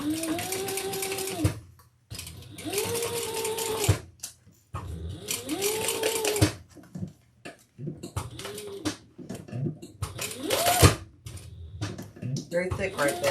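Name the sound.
sewing machine stitching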